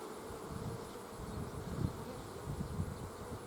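A dense swarm of honeybees fills an opened hive, droning as a steady low buzz with several bees crawling on the floor of the box. The hum stays close and continuous, with brief louder swells, and no one speaks.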